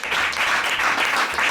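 A crowd applauds a newly married couple at the first church wedding of 2023, dense steady clapping close and loud with a brief lull near the end.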